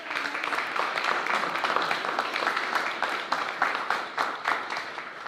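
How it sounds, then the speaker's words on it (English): Audience applause at a school board of education meeting honoring an elementary school student of the month, a steady dense patter of many hands clapping at moderate volume, continuous throughout with no talk over it. "so we're going to applaud anyway"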